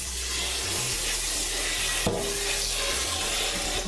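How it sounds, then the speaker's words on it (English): Water pours steadily into a pot holding half a kilo of cubed raw chicken, a continuous close splashing rush lasting a few seconds, with no talking. "all what we're gonna do is we're gonna put some water in it."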